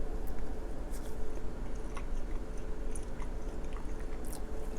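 Someone bites into and chews cubes of ham close to the microphone, steady soft wet mastication with a few crisp bites, no talking.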